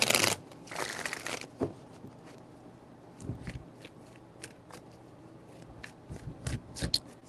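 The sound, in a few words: shuffling tarot cards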